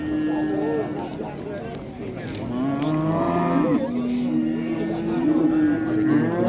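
A cow moos at a village livestock market in Andijan, a long, loud, close bellow that holds and rises over several seconds against steady market noise.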